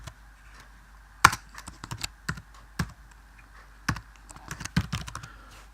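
Typing on a computer keyboard while writing C++ code: irregular bursts of sharp key clicks, close and fairly quiet, alone without talk.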